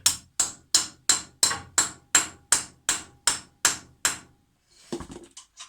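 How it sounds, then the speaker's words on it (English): Flaring anchor bolts are driven into a concrete floor with a hammer, giving about eleven sharp, evenly spaced metallic strikes close to the microphone. A short, softer clatter follows after a pause. "So put them on, hammer them down."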